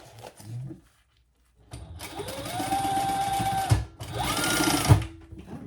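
A sewing machine runs close up, top stitching a zipper seam on a small wristlet in two whirring bursts of rapid stitching separated by a brief pause.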